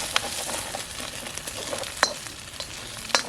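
Fried egg being broken up and scrambled in a pan over a CampQube firepit, a steady sizzle with sharp scraping clinks of a utensil against the pan at irregular moments.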